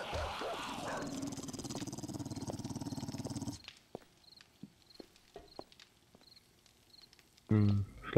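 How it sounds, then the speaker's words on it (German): Dogs in the survival video game 7 Days to Die give a dense burst of rough barking and noise, then fall to scattered short sounds and faint repeated calls, ending with another loud burst. "Guck mal, die Hunde da vorne."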